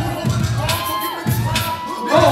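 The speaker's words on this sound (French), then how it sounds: "On peut applaudir le passage." Crowd at a dance battle cheering and shouting, with whoops rising in bursts and a steady dense roar throughout, loud and close.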